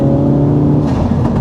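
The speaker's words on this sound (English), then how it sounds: "The intake noise is phenomenal, isn't it?" A 2016-era Ford Focus RS Mk3 on a track gives a loud, steady intake roar and engine drone under acceleration, close and continuous with a slight whooshing lift near the end.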